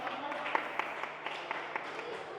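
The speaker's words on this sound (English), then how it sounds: "Clap for them." An audience claps for children at a kids' talent event, a short burst of scattered, moderately loud applause mixed with murmuring voices.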